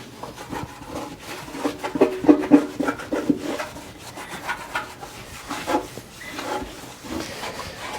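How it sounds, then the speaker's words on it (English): A cloth wipes and polishes the paint on a Honda CB450 Black Bomber motorcycle, giving repeated close rubbing strokes in an uneven rhythm, moderately loud with no talking. "we'll keep wiping"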